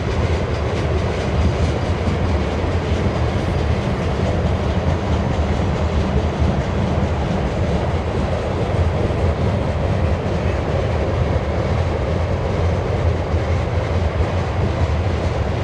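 A BNSF westbound grain train rolls past in Spokane Valley, Washington, a loud, steady rumble and rattle of freight cars that holds evenly throughout.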